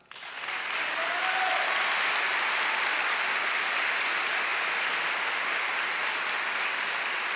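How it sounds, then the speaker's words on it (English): Guests at a nursing school hooding ceremony give a round of applause that rises quickly from near silence into a full, even roar of clapping, sustained at a constant level for several seconds. "Let us give them a round of applause"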